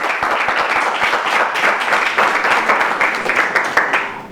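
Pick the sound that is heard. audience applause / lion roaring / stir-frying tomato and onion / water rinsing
audience applause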